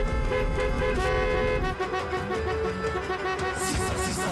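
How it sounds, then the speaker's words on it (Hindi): Several car horns honk near and loud, overlapping sustained blasts and toots in a festive wedding-procession convoy, continuing throughout with engine rumble beneath. "हॉर्न क्यों बजा रहे हैं?"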